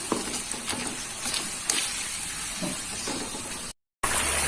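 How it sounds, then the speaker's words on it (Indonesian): Coarse ground spice paste stir-fried in a pan until cooked, a steady close hiss of sizzling oil with occasional scrapes and taps of a stirring utensil, briefly cut to silence near the end. "Kita tumis bumbunya sampai matang."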